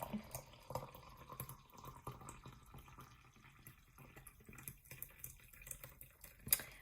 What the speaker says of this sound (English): So let me pour some, because as usual I'm always talking away and then I get, like, really thirsty.